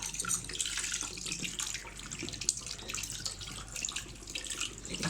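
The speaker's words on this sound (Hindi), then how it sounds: "ये देखिए खुला वाटर डालना है इसमें, खुला।" Tap water runs in a steady, faint splashing stream, poured over beef trotters as they are washed in a kitchen.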